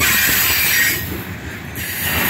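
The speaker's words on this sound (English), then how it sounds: "This train is an eastbound train." A heavy eastbound Norfolk Southern coal train of loaded hopper cars rolls past up close, wheels grinding and squealing on the rails with a continuous rushing roar.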